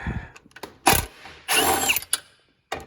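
Ratcheting socket wrench with a 10 mm socket working the bumper retainer brackets beside the headlights on a 2021 Isuzu D-Max, a few close bursts of clicking and grinding separated by pauses.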